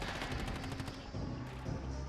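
Rapid automatic gunfire from Call of Duty Black Ops 6 rattles out in quick, evenly spaced bursts, fairly faint and heard alone for about two seconds.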